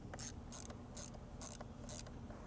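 A small driver clicks through repeated ratcheting bursts while T20 bolts are tightened on the engine cover of a Mercedes-Benz W166 ML350, five short bright clicking runs evenly spaced, close and fairly quiet, no talking.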